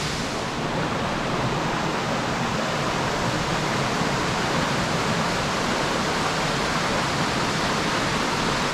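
The Ribeira Grande river on São Miguel in the Azores flowing, a dense continuous rush of water heard close and loud without a break, with no voices.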